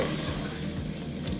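Chopped onion and tomato cook in a pan with a loud, close sizzle, a few soft stirring scrapes and a sharp clink at the end, brief and without talk.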